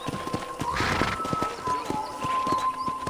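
Horse hooves clip-clop in an even rhythm on the ground in Red Dead Redemption, a series of distinct thuds at moderate loudness with a faint tonal hum and brief background noise.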